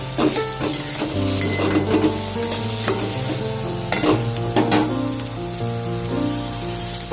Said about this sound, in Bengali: দিয়ে একটু বড়িগুলোও ভেজে নেব বেগুনের সঙ্গে